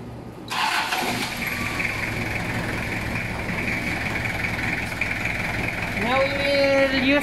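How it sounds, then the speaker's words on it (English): A car engine cranks and catches at an auto electrician's shop before an alternator charging test, then settles into a steady idle, with a brief rev near the end and a voice speaking over it. "Now we need to start the engine now."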